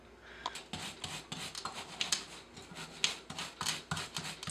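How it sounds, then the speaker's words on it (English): A wire brush scrubs a greasy bike freewheel on a rear wheel in quick, rhythmic rasping strokes, close and fairly quiet, with no talking. "We're going to use wire brush and some nice towels to just give it a good scrub."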